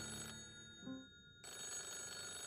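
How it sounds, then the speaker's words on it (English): An old-style telephone bell rings in the video game Morimens, a bright, clattering ring that stops briefly and then starts again, clear and alone in a quiet room. "Phone rings abruptly, shattering the room's tense air."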